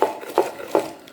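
Ginger, garlic, habaneros and onions are pounded by hand in a Ghanaian kitchen: three evenly spaced, dull wooden thuds, close and moderately loud, with no talk.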